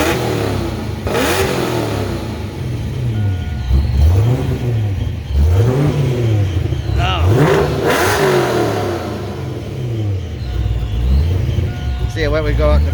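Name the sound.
supercharged Saleen Mustang engine revving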